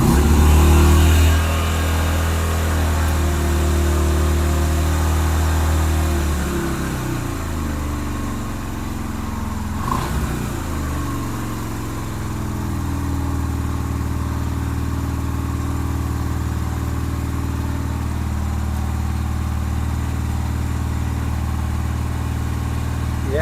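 With the choke fully on, a 2007 Yamaha Virago 250 motorcycle engine runs loud and close, then settles into a steady, continuous idle with a brief blip partway through.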